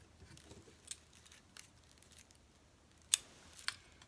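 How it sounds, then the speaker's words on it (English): Scissors snip off the extra string after a double knot on a Valentine's heart craft embellishment: quiet handling at first, then a couple of sharp, close snips near the end. "Okay, and then you're going to cut off the extra."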